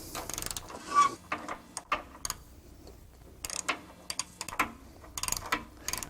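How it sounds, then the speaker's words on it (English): A car coil spring is lowered with a spring compressor during a suspension overhaul, giving a run of close metallic ratcheting clicks and clanks in irregular bursts with short pauses between them. "Next, we're going to lower this spring and then take the spring compressor out."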